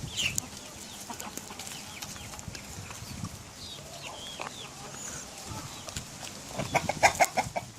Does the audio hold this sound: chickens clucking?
yes